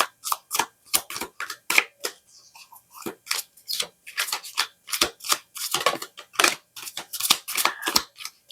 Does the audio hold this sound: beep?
no